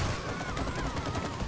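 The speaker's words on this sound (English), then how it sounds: "Keep shooting everything." Rapid gunfire from the video game It Takes Two forms a dense, continuous volley of shots that fills the whole brief moment at a steady level.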